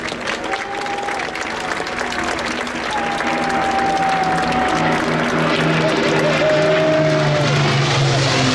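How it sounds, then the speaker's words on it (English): A crowd at a railway festival applauds loudly and continuously for several seconds while a train is being named, under a steady rumble with a whistle-like tone drifting through. "Let's give a round of applause"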